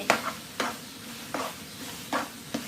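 Crab stir-fried in a pan with curry powder and a splash of fish sauce, giving a steady low sizzle broken by five sharp scraping stir strokes spaced about half a second apart, close up with no talking.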